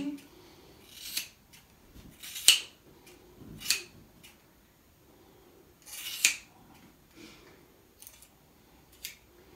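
Scissors cut a woman's hair in a series of sharp, close metallic snips, spaced irregularly with quiet gaps in between, with faint background noise around them.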